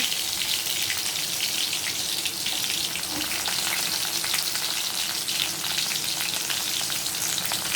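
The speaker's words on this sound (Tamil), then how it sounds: "பொரிஞ்ச உடனே சின்ன வெங்காயத்தை போட்டலாம். நல்லா பொரியுது." Small shallots frying in oil for a simple South Indian fish curry, a steady close crackling sizzle that runs unbroken and fairly loud the whole way through, with no voices.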